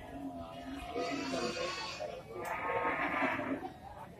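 Javanese local Limousin cattle at a livestock market, with repeated loud lowing and moos close by over a busy background of crowd noise and chatter.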